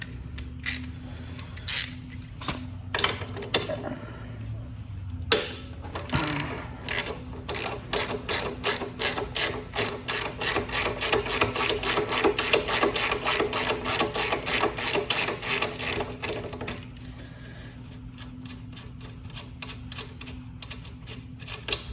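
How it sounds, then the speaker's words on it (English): A 17 ratchet clicks rapidly and steadily while loosening the foot peg assembly on a Venom x20/x21 motorcycle, a long run of close, loud, even ratcheting strokes that then stop. "For that, you're going to need a number 17 ratchet."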